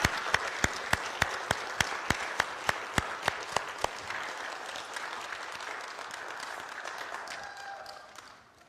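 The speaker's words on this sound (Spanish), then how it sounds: "Démosles un fuerte aplauso, Angélica y Amanda." A church congregation applauds during a Pentecost-season service, starting with a steady, evenly spaced run of single claps that swells into a dense, moderately distant wash of applause before fading out.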